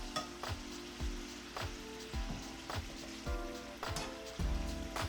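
Chicken pieces searing in hot oil in a pan, a steady sizzle and crackle with repeated soft spatters and stirring bumps, moderately quiet and close with no talking.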